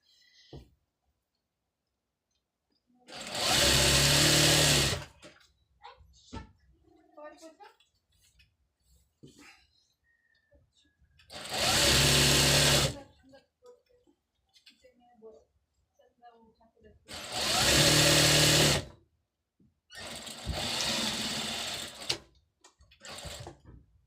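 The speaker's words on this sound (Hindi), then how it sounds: "उस हिसाब से आपको साइड की सिलाई लगाना है" A sewing machine stitching the side seam of trousers runs in four loud, close bursts of steady whirring, each lasting a couple of seconds, with quiet handling clicks between runs.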